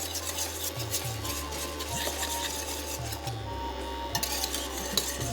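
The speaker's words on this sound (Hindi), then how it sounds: "फिरनी का नाम इसीलिए है कि साहब फेरना पड़ता है इसको, तो फेरते रहिएगा बस।" A spoon stirs thick jowar flour phirni in a cooking pot, with rhythmic scraping and rubbing strokes against the pot, close and fairly soft, with no talk.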